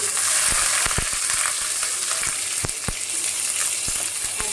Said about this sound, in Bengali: এখন আমি আদা রসুন পেস্ট দিয়ে দিব এক টেবিল চামচ